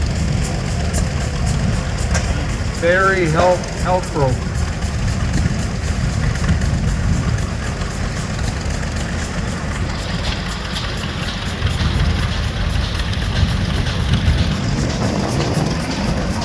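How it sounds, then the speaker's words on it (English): A vintage museum tractor runs at an outdoor threshermen's show. A loud, steady low engine rumble plays alongside crowd noise, with a brief spoken phrase near the start. "This is the Western Development Museum store tractor. Lots of power for a tractor of its time."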